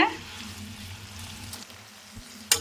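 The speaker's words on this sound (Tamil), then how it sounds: "அந்த மூணு தக்காளியை நம்ம ஆட் பண்ணிக்கலாங்க இப்போ நல்லா இது மிக்ஸ் பண்ணுங்க" Three chopped tomatoes sizzle and fry in a pan over medium heat while being stirred, a steady close crackle with a few sharper scrapes and a clatter near the end.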